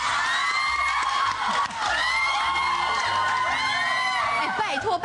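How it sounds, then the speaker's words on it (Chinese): Live audience cheering, screaming and applauding at a show, loud excited shouts and whoops forming a steady roar, with voices calling out over the crowd. "happy 就可以这么多掌声了"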